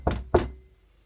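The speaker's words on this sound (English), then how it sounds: "Duck knocked on the door early." Two firm knocks on a barn door, a quick pair of hollow thumps close together, with a brief fading ring after the second and no voices.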